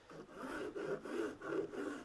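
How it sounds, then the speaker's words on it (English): A coarse bastard file cross-files the bandsaw marks on wooden dovetail cuts, giving five even rasping strokes in a steady back-and-forth rhythm, close and clear with no talking. "I'll generally cross file with my file and just tidy up any of the cuts"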